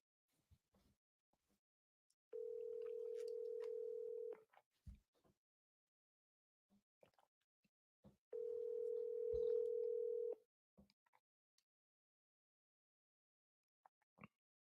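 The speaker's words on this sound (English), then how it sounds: "Come on, Dad, answer the phone." A telephone ringback tone plays while a call waits to be answered: two long, steady, moderately loud tones about four seconds apart, with silence and a few small clicks around them.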